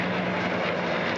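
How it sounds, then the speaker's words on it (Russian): Helicopters circle over a city, a loud steady rotor and engine drone that fills the whole stretch without a break and with no voices. "Над городом кружат вертолеты."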